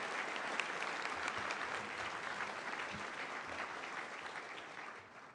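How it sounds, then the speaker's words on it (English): A crowd at an induction ceremony applauds steadily with dense, continuous clapping that fades out toward the end. "Please give them all a round of applause."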